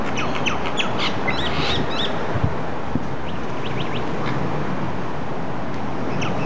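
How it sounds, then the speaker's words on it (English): Birds squawk and chirp in short, scattered bursts at close to middle distance over a steady background hum, their calls sounding agitated as they fight and mate. "Gone from bird fighting to bird porn."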